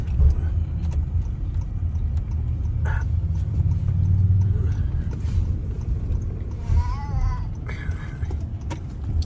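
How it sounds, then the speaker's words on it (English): Car engines rumbling low and steady in a parking lot near the water in Cleveland, with muffled thumps and a faint squeak over continuous traffic-like noise, no clear speech. "We're parking our cars."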